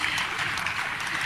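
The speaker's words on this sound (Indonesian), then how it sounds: "Boleh tepuk tangan sekali lagi?" Brief burst of crowd applause, a wash of many hands clapping at once, fairly loud and continuous for about a second.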